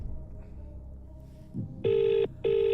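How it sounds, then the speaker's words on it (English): A house phone ringing at night: after a quiet stretch of low background noise, two loud, sustained electronic rings sound close by, separated by a short gap. "Who's this calling at this time of night? On the bloody house phone."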